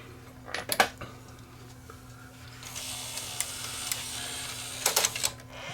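An old Sony EDV7300 ED Beta video recorder with a tape-unloading fault whirs and clicks as its mechanism runs, with sharp plastic clacks and a rattling burst near the end, heard close up over a low hum, without speech.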